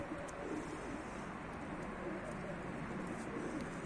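Soft pigeon coos repeat under a hissy, noisy background, close by but muffled; a pigeon in flight.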